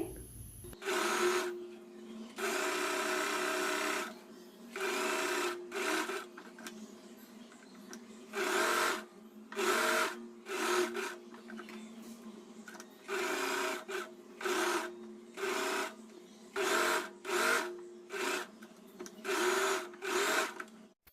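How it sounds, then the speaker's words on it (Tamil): A sewing machine stitching lining and main fabric together along the edge of a kurti, running in repeated bursts of whirring with short pauses between them, steady and close, no talk. "நம்மளோட லைனிங் ஃபேப்ரிக் மெயின் ஃபேப்ரிக் ரெண்டுத்தையும் ஒன்றா வச்சு நம்ம ஓரத்துலேயே வந்து ஆஸ் யூஷுவல் எப்போவுமே ஸ்டிச் பண்ணுவோம்"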